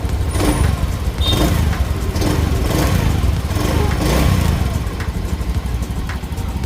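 A Honda Zoomer scooter with a fuel pump issue and a low battery starts up and then runs at a close, steady idle, its buzzing engine putter continuous for several seconds.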